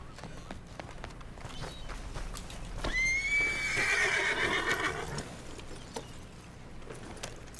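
A horse in the video game Red Dead Redemption 2 gives a clear, close whinny midway, with soft hoof clops and light footfalls around it and a quiet background.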